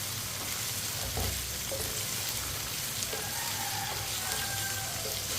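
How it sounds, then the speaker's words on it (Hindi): Okra and potatoes fry in a pan for aloo bhindi while a spoon stirs them, giving a steady close sizzle with scattered scraping and clinking from the spoon. "इसे ऐसे ही चम्मच चलाते हुए फ्राई करना है।"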